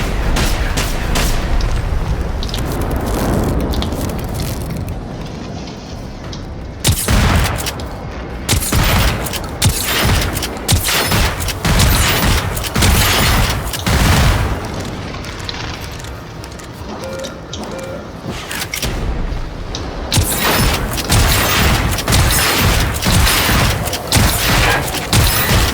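An experimental shotgun in the game Generation Zero fires repeated heavy booming blasts, sometimes in quick bursts and sometimes spaced apart, loud and close amid sharp crashes and clanks, with no talking.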